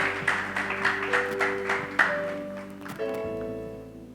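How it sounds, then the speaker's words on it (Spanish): A church congregation applauds in a short burst of rhythmic clapping that fades after a few seconds as sustained organ-like tones continue underneath. "Vamos a darle un aplauso al Señor de gloria en este momento."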